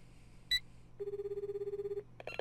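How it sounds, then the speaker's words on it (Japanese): A telephone call in a video game begins with a short, bright beep, then a steady pulsing ring tone that lasts about a second and stops abruptly, followed by a brief burst of sound at the end. "では、失礼して電話を。"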